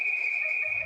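A single sustained, piercing referee whistle blast at an ice hockey game, loud and steady for under a second.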